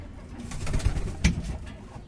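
Pigeons coo softly in a few low, throaty bursts, close by, released outdoors at a pet seller's place, with a slightly louder coo partway through and no talking.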